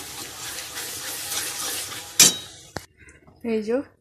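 Chicken pieces go into a karahi of oil-fried cooked spices: a steady loud sizzle, then a sharp metal clink, then a quieter hiss with a brief voice near the end.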